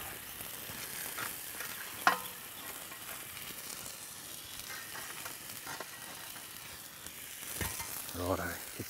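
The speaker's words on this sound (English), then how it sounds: "It'll take a little while to start sizzling" Quiet, steady sizzling of lamb shanks and onions frying in a heavy cast-iron camp oven, with occasional clinks and stirring noises.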